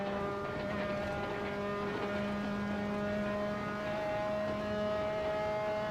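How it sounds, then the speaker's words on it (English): Formula 3 car in the racing game Assetto Corsa, a steady held engine drone with harmonic whine, the underbody repeatedly scraping and bottoming out over the track, continuous with no talk. "this Formula 3 car literally bottoms out over everything"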